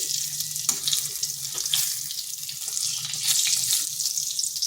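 Brinjal (eggplant) slices being fried in oil after being turned over, a steady bright hiss of sizzling fat with soft crackles, fairly close and continuous, no voices.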